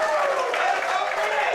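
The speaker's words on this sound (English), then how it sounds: "crowd is getting excited." A home crowd at a bocce tournament championship game cheers and claps, a loud, dense roar of voices with applause, with a commentator's speech mixed in.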